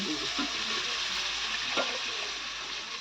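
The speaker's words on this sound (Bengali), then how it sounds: "একটু জল দিয়ে দিল।" Water splashed into a pan where fresh figs are frying, a continuous hiss and bubbling simmer with a brief pour-like swell midway, fairly quiet and without talk.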